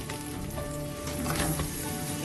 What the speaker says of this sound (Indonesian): si rajungannya ini kita masukkan